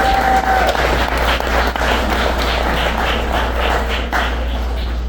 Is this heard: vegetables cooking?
no